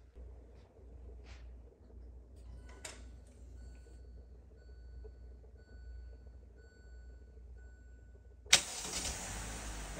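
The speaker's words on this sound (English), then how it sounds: "And here you go, the car started." A 2017–2019 Hyundai Elantra with key ignition, fitted with a remote auto starter, sits quietly outdoors with faint birdsong until the engine cranks and catches abruptly near the end, rising into a steady idle.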